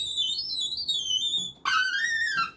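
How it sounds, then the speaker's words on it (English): A synthesizer patch plays high electronic bleeps whose pitch wanders randomly, sliding tones in a continuous warbling stream that breaks briefly and restarts with a sharp jump, clear and alone. "It doesn't sound like anything other than just random bleeps."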